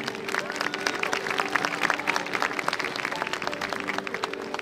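A large audience in Piazza San Marco, Venice, applauds steadily at the Carnival, a dense patter of many hands clapping, with faint voices mixed into the crowd noise.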